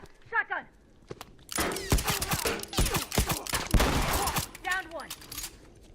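Loud, close shotgun blasts and a chaotic exchange of fire in The Last of Us multiplayer, several heavy reports packed into a few seconds, with voices briefly before and after.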